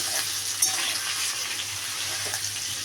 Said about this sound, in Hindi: अब इसे धीरे धीरे चलाएंगे और तब तक भूनेंगे जब तक ये पूरे